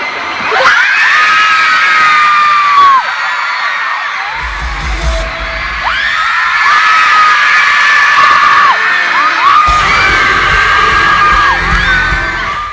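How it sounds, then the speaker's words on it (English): A concert crowd screams and cheers at close range. Shrill, sustained shrieks rise and fall in repeated waves over a loud, continuous wall of crowd noise, with low rumbling thumps in between. "I'll post a little snippet of that right here so you guys can hear my obnoxious screaming"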